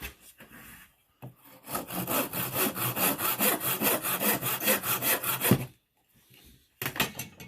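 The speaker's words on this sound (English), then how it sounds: "I've left the bit sticking out, so I can now cut this one off." A hand saw cuts off a protruding wooden dowel in fast, even back-and-forth strokes, loud and close, stopping briefly before a few final strokes.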